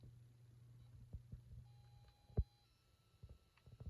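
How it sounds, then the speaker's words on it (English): A faint, steady electronic beep from a Tiger Electronics Super Poo-Chi robot toy dog in test mode holds for about a second amid quiet background hiss, with a soft click partway through. "if you press the A button, the speaker sounds will change and you'll hear kind of a quiet beep"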